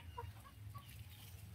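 Chickens about four to five months old cluck softly in a few short calls, faint over a steady low rumble during a typhoon.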